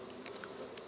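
Honeybees foraging around the hive, a faint steady buzzing hum with a few passing bees droning briefly close by.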